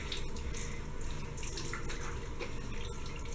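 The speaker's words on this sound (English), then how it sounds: "I'm just going to rinse this off now." Water running steadily from a bathroom tap while a face is rinsed, a close, continuous splashing hiss with a few faint drips, heard alone without talk.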